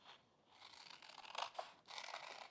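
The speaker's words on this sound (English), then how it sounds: "I'm gonna take my scissors and I'm gonna cut out the shape" Scissors cutting through folded paper to cut out a drawn shape for a spring craft, a faint close-up run of crisp snipping and rustling strokes with short pauses between them.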